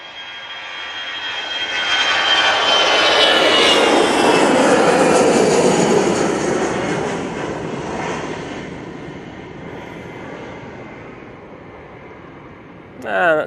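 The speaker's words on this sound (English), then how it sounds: "that's the EasyJet A320 off to Mahan" An EasyJet Airbus A320 jet takes off at Manchester Airport with a rising, swelling engine roar and whine that peaks near and then fades as it climbs away.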